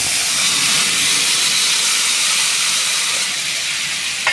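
Olives hit a hot pan on a gas stove and set off a loud, steady, close sizzle that hisses evenly throughout.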